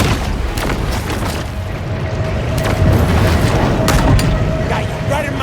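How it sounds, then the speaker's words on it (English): A torpedo explosion in the shark game Maneater: deep heavy booming rumbles through the whole stretch, swelling louder midway, mixed with scattered sharp cracks and underwater-style roar, with no speech over it. "Bet you didn't think I had torpedoes."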